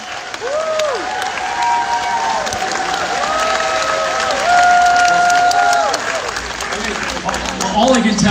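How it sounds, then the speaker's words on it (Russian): An audience at a company summit applauds in a sustained wash of clapping with some cheering, while a voice carries over the top. "Давайте поаплодируем."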